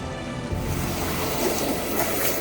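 Steady rushing water from a creek at a crossing on the Pacific Crest Trail fills the clip, a continuous broadband wash, with no voices.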